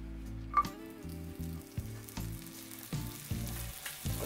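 A tablespoon of butter sizzling in a skillet before Cajun salmon goes in, a soft crackling sizzle with several short knocks and scrapes from the pan, close and fairly quiet, with no talk.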